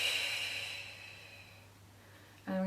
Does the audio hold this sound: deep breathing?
yes